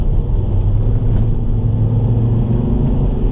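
A Volvo C30 D4 diesel with 177 hp, heard from inside while cornering: a steady, loud low engine drone and road rumble that runs unbroken and without speech.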